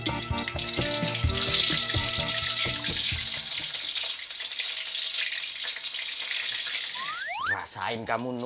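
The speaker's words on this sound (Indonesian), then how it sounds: "Aku goreng ayam-ayammu." Loud sizzling and crackling of chicken frying in a pan, steady throughout, with a brief voice near the end.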